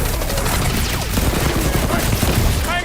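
Rocket's fireworks attack in the Guardians of the Galaxy video game, a loud, dense barrage of rapid crackling blasts and whistles that fills the whole stretch.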